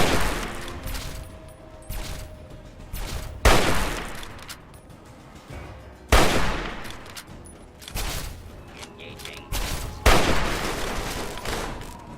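Repeated bursts of video-game gunfire crack out in loud, close volleys roughly every two to three seconds, with clattering mechanical noise and ambient rumble filling the gaps between shots.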